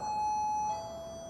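A smart door lock's doorbell button sounds a clear electronic two-tone chime, a sustained high tone stepping down to a lower one, alone and close for about a second.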